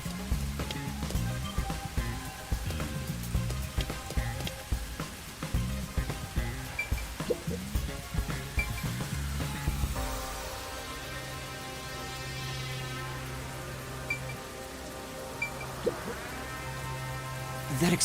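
Steady rain hissing down, layered with looping game music and tones; no voices, continuous throughout.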